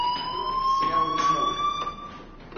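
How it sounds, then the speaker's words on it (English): A fire alarm sounds in a building with a steady high electronic tone and harmonics, continuous across the moment, with faint indistinct voices and movement underneath. "do you hear that fire alarm?"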